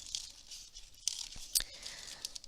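Scissors snip through a paper spiral, giving quiet, crisp cutting and crinkling sounds with a few sharper snips, close by and alone with no talking.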